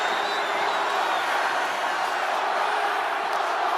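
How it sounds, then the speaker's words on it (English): A thunderous arena crowd in the WWE 2K25 wrestling video game roars continuously, a dense loud wash of cheering and shouting that holds steady throughout. "This crowd is thunderous right now."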